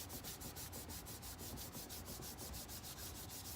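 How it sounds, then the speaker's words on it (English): Steady, continuous rubbing of folded paper over chalk for a symmetrical chalk transfer, a soft rhythmic scrubbing with quick regular strokes, close and even throughout with no voices. "I'm going to fold it over, and I'm going to rub."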